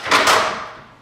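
Keeper clips snapping onto a kitchen utility cabinet drawer, giving two quick close clicks followed by a short fading rattle, with no talking.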